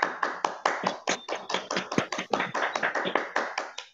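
Sharp, distinct hand claps from unmuted participants on a Zoom call after a concert performance, about five claps per second in a brisk, fairly even rhythm, close and clear.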